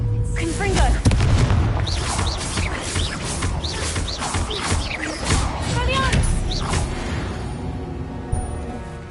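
Confringo fire spell blasting in Hogwarts Legacy, a heavy boom amid continuous noisy battle sounds and chirping creature cries, with voices talking over it.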